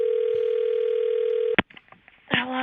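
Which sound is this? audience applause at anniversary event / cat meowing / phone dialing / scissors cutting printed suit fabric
phone dialing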